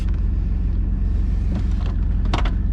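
Chevy Blazer idling after an exhaust leak repair with the muffler secured, a steady low rumbling engine drone with a few brief clanks, fairly close and alone.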